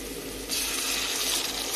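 Hot water gushes steadily from a measuring cup into a pot while rava kichadi is being made, a continuous pouring sound that begins after a short pause and stays loud and close.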